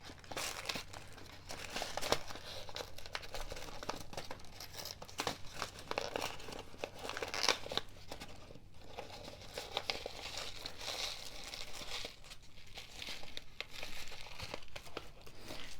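Tissue paper crinkles and rustles continuously up close as sequins shaped like butterflies and flowers are tipped out onto it, with soft irregular crackling and no talk.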